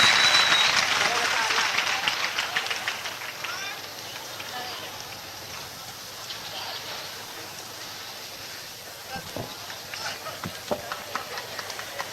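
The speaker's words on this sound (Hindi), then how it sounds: "जोरदार तालियां बजाइए" An audience applauds at a live kavi sammelan poetry gathering in Indore, a sustained wash of clapping that is loudest at first and slowly thins out, with scattered louder claps near the end.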